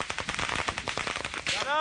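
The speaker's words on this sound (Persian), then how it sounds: "گلوله و خمپاره آنها را زمین گیر می کند." Gunfire crackles in rapid, uneven bursts of sharp cracks that crowd together into a dense volley, with one louder boom near the end that could be a mortar round.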